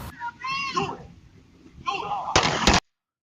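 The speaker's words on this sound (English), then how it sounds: "Then gunfire." Gunfire from a shootout plays on a recording, a burst of loud, sharp shots near the end that follows stretches of talking voices.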